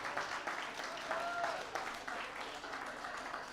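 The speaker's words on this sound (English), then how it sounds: "Another round of applause for Justine, guys." Applause from a live podcast audience, steady clapping at moderate level with some voices and cheering mixed in throughout.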